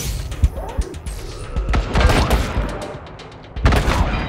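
Turret gunfire in Wasteland 3, loud rapid volleys of shots and crashing impacts, clustered bursts around the start, middle and end, with no talking.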